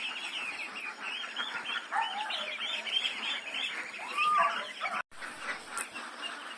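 A crowd of two-week-old brown Itik Pateros ducklings keeps up a dense, continuous chorus of high peeping calls, close and fairly loud, with a brief dropout near the end.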